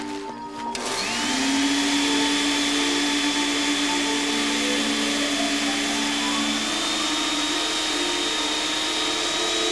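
A vacuum cleaner switches on and runs steadily with a loud, high whine and droning motor, alone and close by.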